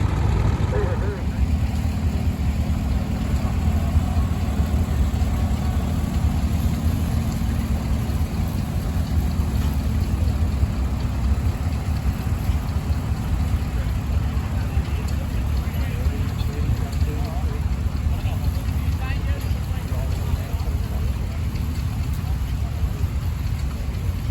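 Vintage tractor engine idling at a working horse and tractor rally, a continuous low chugging rumble with steady texture throughout, overlaid by outdoor crowd and wind noise and occasional people talking nearby.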